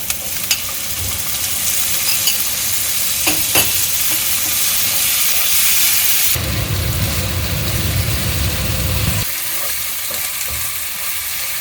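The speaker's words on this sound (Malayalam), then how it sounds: "സവാള തക്കാളി ഒരുമാതിരി വഴന്ന് വരുന്നു" Onion and tomato sauté in a pan for chicken biryani, giving a steady close sizzle broken by stirring scrapes, with a louder, denser frying surge through the middle stretch.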